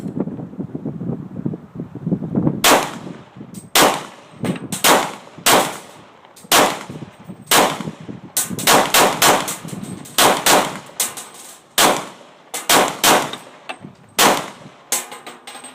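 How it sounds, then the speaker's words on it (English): A Glock 22 pistol in .40 caliber fires at a target, with about twenty sharp, loud reports in irregular clusters and short pauses, outdoors with some wind noise and no talking. "It's smooth shooting firearm. 40 caliber is a little bit heavier round, larger round than a 9mm."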